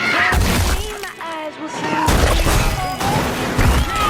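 Loud crashing and shattering of glass in a Final Destination Bloodlines film scene, in repeated bursts with clattering debris, all close and harsh.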